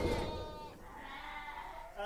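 A ram bleats on a farm, its wavering call close and fairly loud, running under a man's speech throughout.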